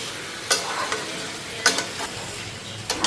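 Spices cook in a pan with a steady sizzle, broken by three sharp scraping strokes of a stirring spoon at roughly even intervals, close and fairly loud, with no talking.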